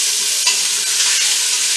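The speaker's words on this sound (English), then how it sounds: "I'm going to stir that around a little bit. Probably quite loud. And sear all the sides." Beef chunks sear in a hot pan with a loud, steady, close-up sizzle, a spoon stirring and scraping through the meat now and then.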